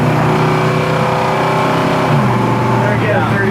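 A 1968 Ford Torino engine revs loud and close as the car accelerates, its drone rising in pitch through a gear shift near 4,000 RPM, with talk over it.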